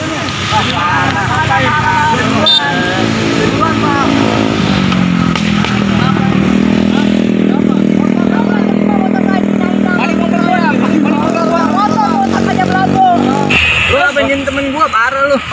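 A motorcycle engine revs and drones continuously at close range, loud and steady throughout.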